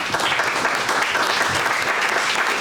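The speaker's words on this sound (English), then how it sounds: "So let's give a round of applause to our panelists." Audience applause for the panelists at an affordable housing forum fills the room, a dense, steady wash of many hands clapping at close range throughout, with no voices over it.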